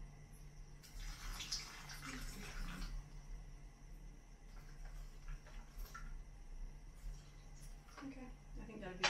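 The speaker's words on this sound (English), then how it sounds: "So I'm going to pour water to there." Water is poured into an American military MRE pouch during a hotel quarantine meal, a splashing, trickling pour rising over a couple of seconds and returning in short bursts, with a speaker talking quietly in between.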